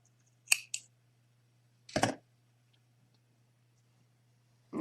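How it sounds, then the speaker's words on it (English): Scissors snipping crochet yarn, a few short, quiet snips and clicks close by in an otherwise silent room with a low hum. "chain 1 and cut your yarn"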